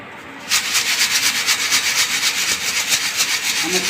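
Dry pieces of mango seed are shaken in a sieve, giving a continuous rhythmic scratchy rustle that begins abruptly and stays loud and close.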